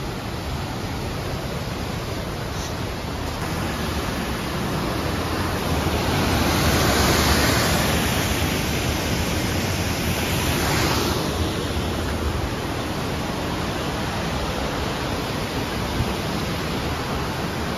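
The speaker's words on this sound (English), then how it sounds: "all this water comes sluicing through that little narrow chasm there" Powerful rushing water of a waterfall sluicing through a narrow chasm roars steadily, a dense continuous wash of noise swelling slightly in the middle, with no voices.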